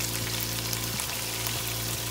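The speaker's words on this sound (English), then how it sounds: "our chicken is here frying" Chicken pieces sizzle in oil in a pan, a loud, dense, continuous frying crackle close up with no talking.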